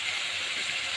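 Steady, even sizzling hiss of ground spices, onion, chili, ginger and garlic paste frying in a pan for chicken curry, continuous and close with no talk over it.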